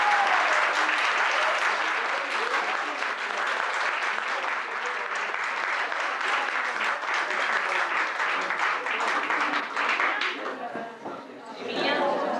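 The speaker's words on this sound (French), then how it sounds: "On va applaudir encore une fois." Audience applause at a 1991 event in France, a dense sustained burst of clapping that stays loud throughout, with voices mixed in and a short dip near the end.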